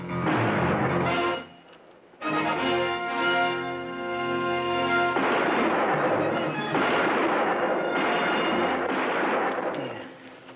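Gunfire in a TV western, a scene of several sharp shots and loud, echoing bursts spread across the scene, set against dramatic orchestral music.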